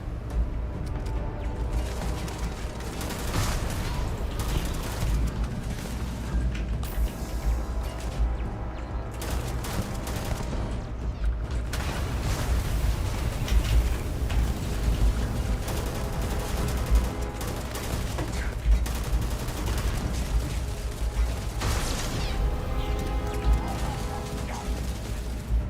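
Steady rattling turret fire from robots in Starfield, continuous mechanical clatter and rapid shots running under a dense, busy battle din for the whole stretch.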